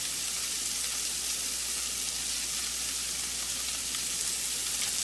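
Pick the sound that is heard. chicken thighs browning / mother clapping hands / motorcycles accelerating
chicken thighs browning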